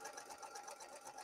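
A straight stitch sewing machine at a 4.0 stitch length joins two fabric pieces, giving a quick, even whirring rhythm that runs briefly and faintly.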